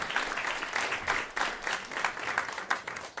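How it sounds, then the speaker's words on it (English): Conference audience clapping for departing panelists at a food waste climate event, a lively patter of many hands rising and falling in bursts, moderately loud and close. "Round of applause as they exit."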